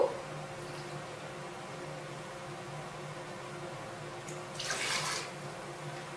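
A cup of water pours into a Vitamix blender jar holding dates, a steady soft splashing hiss that swells briefly near the end, close and fairly quiet.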